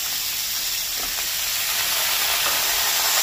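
Pumpkin pieces fry in a pan after potatoes and stalks, giving a loud, continuous broadband hiss and sizzle with a faint scrape or two and no talk.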